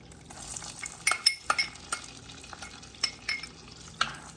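Onions and celery sautéing in melted butter on a stovetop, a soft sizzle under clinking of a utensil stirring against the pan, close and fairly quiet.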